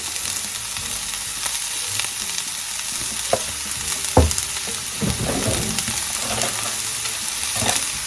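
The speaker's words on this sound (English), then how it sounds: "let's toss our veggies in that skillet. We have about 3 tablespoons of vegetable oil in there." Vegetables sizzle in about three tablespoons of vegetable oil in a hot skillet, a steady close frying hiss with occasional scraping stirs and clinks, no voices.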